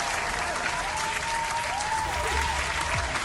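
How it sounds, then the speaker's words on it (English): Applause clip triggered from a soundboard during a Dune Imperium digital match, a short burst of crowd clapping and cheering that fills the moment at steady loudness. "I think my soundboard is working. Let's do a clap."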